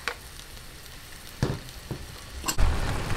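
Pata humba, braised pork, cooking in a pot, a steady sizzling bubble with a few louder clatters and stirring knocks close by.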